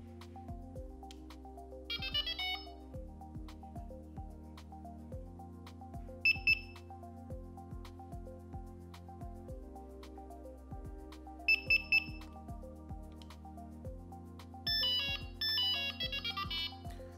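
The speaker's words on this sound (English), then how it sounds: "hold the buttons down for 2 beeps, then 3 beeps" A Delkim Txi-D fishing bite alarm sounds electronic beeps in short clusters of two and three tones over a steady low humming background.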